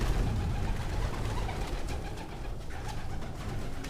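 Pigeons in a loft make low, continuous cooing and murmuring close by, with faint rustling and flutter over a dense, steady background.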